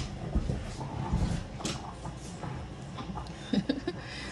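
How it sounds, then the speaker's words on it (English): Pet dogs whimper and give a few short barks indoors, fairly close, with the loudest yelps coming near the end against a quiet room background. "Sorry, my dogs."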